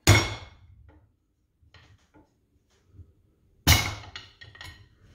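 Two sharp, loud smacks about three and a half seconds apart come from a plunger handle hammering a part into a Fox front shock on a first-generation Ford Raptor, with faint clinks and taps in the quiet between them.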